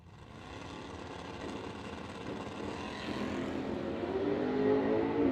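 Drag racing at a no-delay nationals event, a blue Mustang among the cars launching: a broad engine roar that builds steadily in loudness and pitch over a few seconds, heard from a distance.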